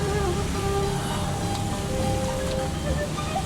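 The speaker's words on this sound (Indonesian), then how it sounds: "lagi hujan berkabut" Steady rain falls in foggy mountain weather at Baturaden in Banyumas, a dense continuous patter with no break and no talk over it.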